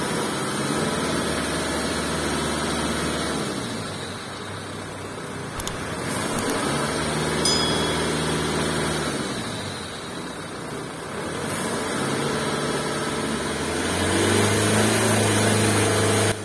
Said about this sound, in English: we cycle through the high revs for a few minutes